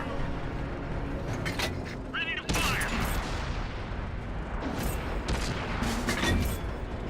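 Tank cannon fire and battle noise in World of Tanks, sharp bursts over a constant rumbling engine bed, with a voice talking over it.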